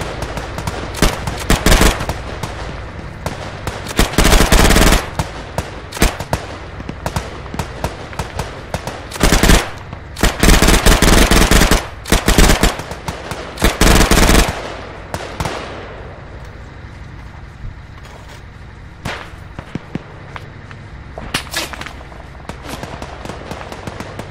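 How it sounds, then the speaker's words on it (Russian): Bursts of automatic and single-shot gunfire in the Arma 3 Iron Front war game, loud rattling volleys in clusters with short gaps and scattered distant shots trailing off toward the end. "Можете доставать оружие и стрелять в противника"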